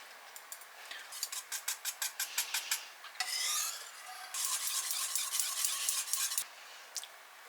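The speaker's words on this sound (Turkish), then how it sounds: "Hepsini çırpıyoruz arkadaşlar. Şöyle biraz da çorbanın suyundan ekliyorum arkadaşlar." Egg yolks are whisked in a bowl and soup broth is poured in, a rapid rhythmic clatter of a whisk against the bowl followed by a softer continuous swishing and rubbing, quiet overall.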